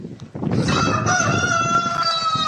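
A rooster clucks briefly, then lets out a loud, drawn-out crow close by, its harmonic call holding steady for about two seconds.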